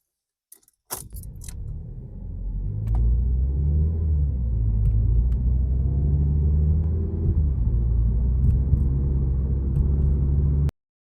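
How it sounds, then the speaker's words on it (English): A Ford Focus engine cranks and catches, then settles into a steady low idle rumble that runs on for several seconds before cutting off abruptly. "So let's start the car up."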